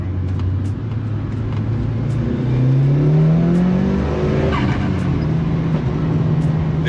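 Classic JDM car idling and revving close by, the engine note rising and falling steadily, with a faint exhaust pop near the end.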